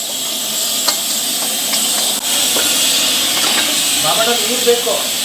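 Cooked, masala-spiced intestines frying in a busy hotel kitchen, a loud steady sizzling hiss running throughout with faint clinks and stirring scrapes, busy background murmur beneath.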